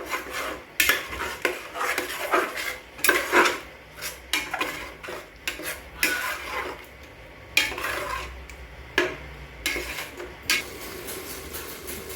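Spice masala being sautéed and stirred in a pan for goat mutton, with repeated scraping and rasping strokes of a spoon against the metal at an uneven rhythm, close and fairly loud, with no talking.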